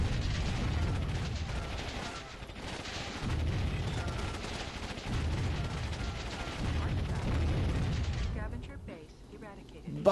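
Repeated booming explosions and bursts of gunfire-like blasts from the video game Warzone 2100 roll through in waves, loud and heavy, fading to quieter scattered pops near the end.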